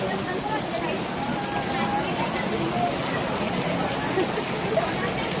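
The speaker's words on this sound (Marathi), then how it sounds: "एवढा पाऊस पडतो इथं" Steady, dense rain hisses without a break, a broad wash of noise close by that stays at the same loud level throughout.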